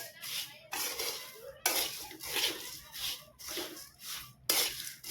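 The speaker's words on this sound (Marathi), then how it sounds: "त्याच्यामध्ये मी टाकत आहे हा फरसाणा। हे परत मिक्स करून घ्यायचंय।" Farsan is mixed into spiced puffed rice in a bowl, giving bursts of dry rustling and light clinking in uneven strokes, close and fairly quiet.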